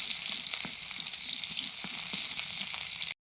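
Chopped onion fries in a hot pan and is stirred, giving a steady close sizzle with a few soft scraping strokes for a few seconds before stopping abruptly.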